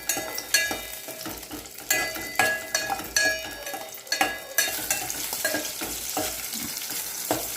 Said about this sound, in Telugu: పచ్చిమిర్చి అటు ఇటు కలుపుతూ ఉండాలి.